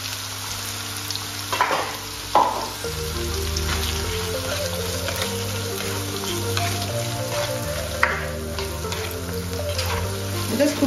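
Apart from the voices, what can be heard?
food sizzling while cooking in a pan for alfredo pasta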